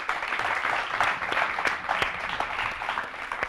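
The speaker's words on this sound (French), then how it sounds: "Je vous demande d'applaudir encore une fois la régie de la RTD." Audience applause at a televised awards ceremony for the RTD broadcast crew, moderate clapping with scattered sharper claps, slightly distant and continuous.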